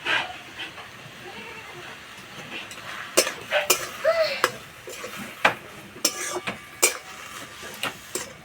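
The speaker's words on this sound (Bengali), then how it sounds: "এইভাবে নাড়াচাড়া করে সিদ্ধ করে নেব।" Malabar spinach (pui leaves) with a little salt and turmeric being stirred in a pan, giving soft scattered scrapes and light clinks of a utensil against the pan, fairly close and modest in level, with no talking.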